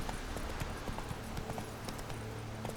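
Roach the horse trotting in The Witcher 3, rhythmic clip-clop hoofbeats, fairly quiet and steady under ambient game sound.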